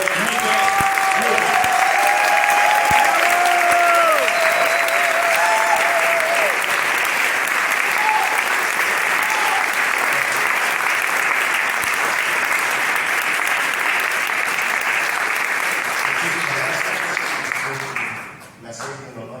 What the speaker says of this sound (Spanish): Démosle un tremendo aplauso a los niños.